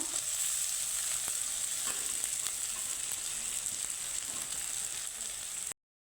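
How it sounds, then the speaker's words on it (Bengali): Grated coconut frying in a pan, giving a steady, even sizzle that holds throughout before cutting off abruptly near the end, with no voices. "হালকা নাড়িয়ে ছেড়ে নিব নারকেলটাকে ভেজে"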